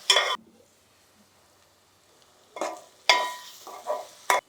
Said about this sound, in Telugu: వంకాయ ముక్కలు ఇలా కోసుకొని చక్కగా వేసేసుకుంటే ఇప్పుడు కాసేపు దీన్ని బాగా మగ్గనిద్దాం